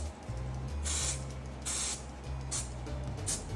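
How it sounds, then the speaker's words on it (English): Four short hissing bursts of an aerosol spray can on handmade pens, each lasting a fraction of a second, over a steady low lathe hum. "spray it."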